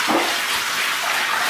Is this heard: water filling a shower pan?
yes